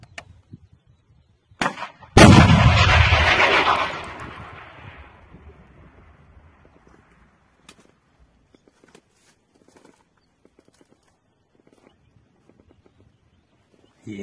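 A Stugna anti-tank missile launch: a sharp crack and a roaring blast, followed by a long rumble that slowly fades away, then scattered faint clicks and small noises.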